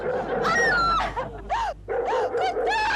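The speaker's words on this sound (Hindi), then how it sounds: "सपना जी, कहाँ है कुत्ता?" A dog barks and yips in quick, loud bursts with whimpering, tonal cries between them, in an indoor comedy scene and with no speech over the sound.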